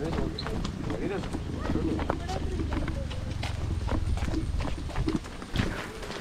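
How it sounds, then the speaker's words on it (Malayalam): Hooves of a bullock pulling a cart clop steadily along a canal-side track, a continuous close rhythmic clatter with the cart's rumble underneath and voices talking over it. "റാബിയേനേം കൂടെ കേറ്റിട്ടാണ് കാളവണ്ടി ഓടിക്കുന്നത് രണ്ടുപേരും കൂടെ."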